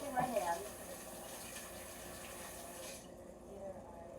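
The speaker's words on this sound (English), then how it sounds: "taking this over to the sink, washing my hands" Water runs steadily from a sink tap as hands are washed, a soft continuous hiss and splash that cuts off abruptly near the end.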